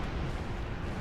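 Cannon fire in the space combat game Star Trek Online, a dense low rumbling explosive boom that fills the whole moment without pause, loud and close with no talk over it.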